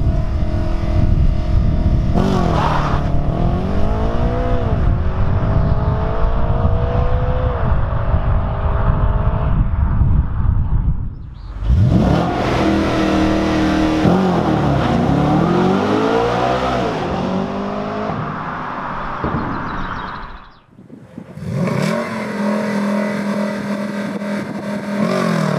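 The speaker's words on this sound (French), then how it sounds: "ce moteur atmosphérique avec ce moteur qui hurle jusqu'à plus de 8000 tours" A naturally aspirated Audi RS5 V8 revs hard and loud up toward 8000 rpm in repeated rising pulls, with brief lifts and gear changes between surges, and no talking over it.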